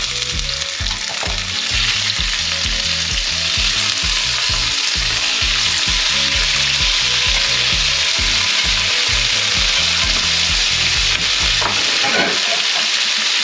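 Langoustines fry loudly in a hot pan with garlic, giving a bright continuous sizzle close up, overlaid with rhythmic scraping and knocking as the pan is stirred and shaken.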